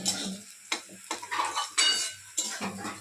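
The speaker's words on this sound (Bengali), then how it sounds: "বেরেস্তার পেঁয়াজ ভাজছি" Onions frying in oil for biryani beresta make a soft, intermittent sizzle mixed with clinks and scrapes of a utensil against the pan, fairly quiet and uneven.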